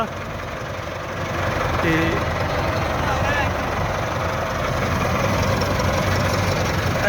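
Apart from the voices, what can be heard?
Kubota KAR 90 mini combine harvester engine idling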